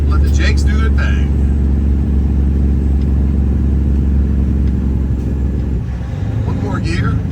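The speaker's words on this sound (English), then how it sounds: "Let's drop another gear. Let the Jakes do their thing." Semi truck downshifting with the Jake brake engaged: a loud, continuous low rumbling drone of engine braking close by, with a voice speaking over it.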